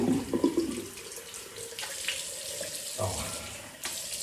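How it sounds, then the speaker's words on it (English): Cold water running from a bathroom tap into a sink after a shave, a steady close hiss and splash with brief clatters at the start and a short bump partway through. "Doing the usual, put the cold water on."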